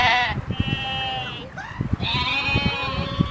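A frightened goat bleats loudly and close by in repeated quavering cries, with short breaks between calls and some rustling underneath.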